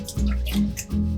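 A kitchen tap runs water into a pot being filled for boiling, a steady splashing stream with bursts of higher spatter, close and continuous.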